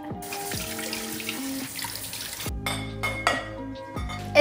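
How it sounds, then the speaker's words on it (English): Dishes being washed by hand in a kitchen sink, with a faucet running steadily and occasional clinks of dishware, while background music plays throughout. "I don't think anybody likes doing dishes though."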